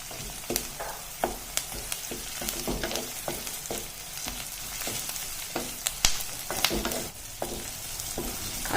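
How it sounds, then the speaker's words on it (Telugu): Ginger-garlic paste and green chilli paste fry in oil in a pan, giving a continuous crackling sizzle broken by repeated sharp scrapes and clinks of a spoon stirring, close and fairly loud, with no talking. "అల్లం వెల్లుల్లి ముద్ద, అలాగే పచ్చిమిర్చి ముద్ద బాగా ఫ్రై అయిందండి."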